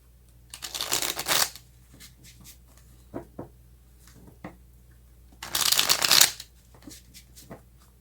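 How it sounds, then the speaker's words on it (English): Small tarot cards are shuffled in two brisk riffling bursts, separated by quiet stretches with a few light taps and handling sounds. "It's actually easier shuffling these little things."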